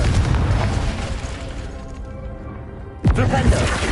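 A Confringo fire spell goes off in the game Hogwarts Legacy: a dense, noisy rumble fades, then one sudden loud explosive boom bursts out near the end and rolls on.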